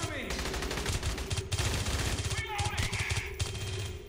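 A video game gun fires in a dense, loud burst of rapid shots over a busy, noisy game soundscape, continuing through most of the clip.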